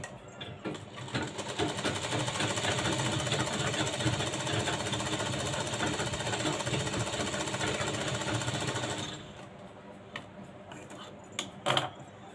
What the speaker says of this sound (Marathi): इथं आपण डबल शिलाई घ्यायची आहे